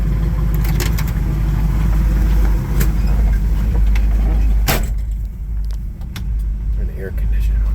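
1968 Camaro with a 350 V8 and 700R4 transmission, cabin noise of the drive as a steady low engine rumble with clicks and rattles. A sharp thump partway through before the rumble continues, with a voice talking over it.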